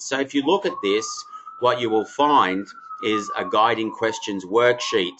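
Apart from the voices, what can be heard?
siren outside in New York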